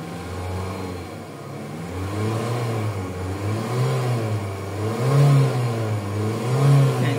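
A car engine fitted with an aftermarket power box revs up as the accelerator pedal is pressed, climbing from a steady idle into repeated rising swells that grow louder toward the end, with no talking.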